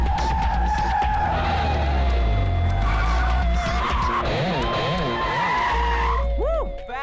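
A car skids hard during a test drive, with sustained loud tire squeal wavering and sliding in pitch over a roaring engine, ending in a few sharp squeal bursts; voices occasionally sound beneath.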